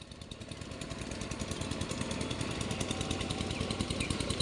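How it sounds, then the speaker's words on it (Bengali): A diesel-type water pump machine runs steadily at a rural Rajbanshi homestead near paddy fields, its engine chugging in a fast, even rhythm. It drones close and loud throughout, with no talking. "আর ওদিকটা মেশিন চলছে"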